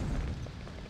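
A molotov cocktail bursts into flames in a video game, heard as a low, muffled whoomp and rumble that stays fairly quiet and steady over a brief moment.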